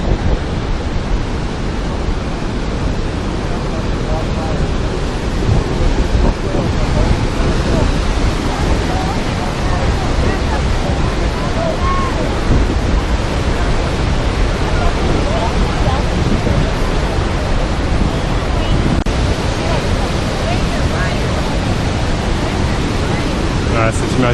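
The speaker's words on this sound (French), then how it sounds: "ça c'est la première cascade" The first waterfall at Yosemite park, a loud, steady roar of falling water that fills the whole scene without pause, close by and unbroken for the full duration.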